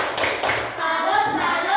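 A classroom of students claps together for a group that has just presented, giving a dense, close patter of hands mixed with children's voices chanting.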